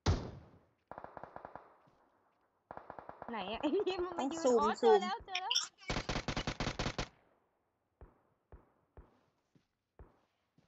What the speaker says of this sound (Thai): ใครยิงกันอยู่วะ